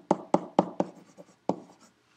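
Chalk or marker scratching across a board while Newton's second law is written out: four quick, evenly spaced strokes, a few lighter taps, a short pause, then one more firm stroke, close and clear with no talking.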